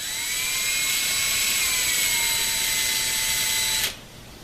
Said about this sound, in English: You need a 1/2 inch drill for this.